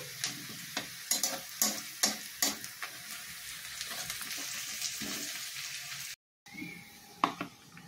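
Chopped onions fry in oil in a pan for a crab masala, a steady close sizzle with scraping stirs and clicks of a spatula against the pan, broken by a brief gap.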